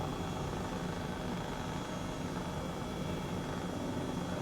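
A helicopter in Microsoft Flight Simulator 2020 flying on autopilot, a steady, unbroken rotor and turbine drone with a faint high whine, loud and constant throughout with no talking.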